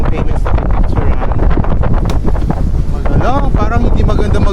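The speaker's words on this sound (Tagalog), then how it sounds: "It's so windy." Strong wind buffets the microphone on an island-hopping boat tour among rock formations in Coron, Palawan, a loud continuous roar throughout with faint voices mixed underneath.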